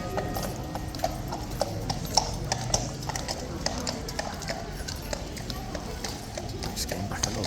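Police horses walk past at close range, their hooves clip-clopping in a steady, unhurried rhythm under a background of crowd noise and chatter.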